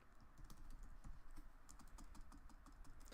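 Fast, irregular typing on a computer keyboard, quiet and continuous, with soft key clicks over a faint low rumble and no voices.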